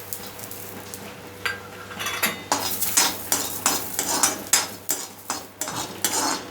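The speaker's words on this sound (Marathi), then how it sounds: "लसूणही चांगला कलर बदलेपर्यंत आपल्याला फ्राय करत राहायचं आहे।" Garlic fries in a pan as a utensil stirs and scrapes it in repeated rhythmic strokes, with a soft sizzle beneath the close scraping.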